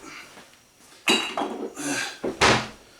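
Someone rummages through a kitchen cupboard for a soy sauce bottle, producing a few close clunks, knocks and rattles of bottles and containers being shifted, with brief pauses between the bursts.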